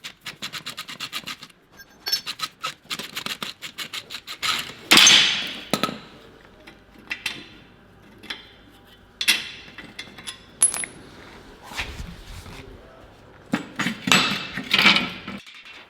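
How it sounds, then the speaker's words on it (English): A hammer drives a flathead screwdriver against steel leaf spring brackets. The result is a run of sharp metallic clinks and taps in uneven clusters, close and moderately loud, with scraping between strikes. "I just use a flathead screwdriver and my hammer"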